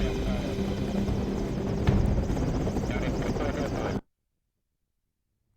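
Black Hawk helicopter approaching in Ghost Recon Advanced Warfighter 2, rotor thrum and turbine whine loud and steady for about four seconds before cutting to silence, with radio voices over it.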